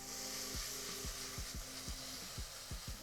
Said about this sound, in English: I'm sure you'll be able to hear the sizzle.